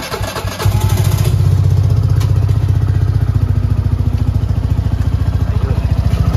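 A Suzuki Burgman 125 scooter fitted with a Koso Hurricane racing filter starts up, then settles into a loud, steady, close engine idle with a fast regular pulse.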